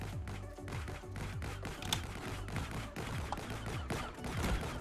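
Rapid, dense gunfire and explosive pops from enemies throwing grenades in a video game battle, heard as continuous quiet crackling bursts with no talk.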